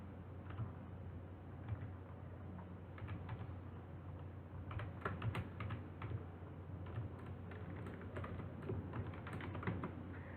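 Code is being typed on a computer keyboard, giving a steady stream of soft, close key clicks and taps in irregular bursts over a faint low hum, with no one speaking.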